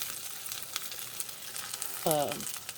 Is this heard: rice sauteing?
yes